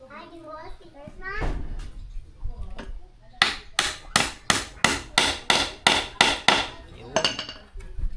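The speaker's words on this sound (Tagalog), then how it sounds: "Pako muna tayo. Para hindi mabibitak." A hammer drives nails into wood with a run of about a dozen sharp, evenly spaced blows, close and loud, after someone talking at the start.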